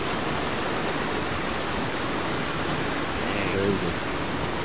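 Broad, steady roar of a lot of river water rushing, constant and loud throughout, with a brief voice speaking near the end.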